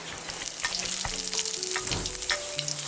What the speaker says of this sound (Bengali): তেলটা গরম হয়ে গেছে এবার দিয়ে দেব জিরে